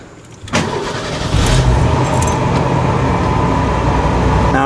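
A 1991 Ford F-150 pickup truck engine cranking and catching, a sharp start after a short quiet lead-in, then settling into a loud steady idle with a rising rumble, recorded close.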